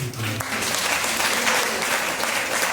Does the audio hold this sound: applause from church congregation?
yes